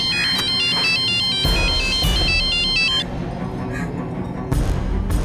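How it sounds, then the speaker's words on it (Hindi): On an outgoing call, a phone plays a loud, melodic ringing tone that repeats in a quick pattern for about three seconds, then cuts off and leaves background noise. "तुम करो, मैं दीपक के घर पे कॉल करता।"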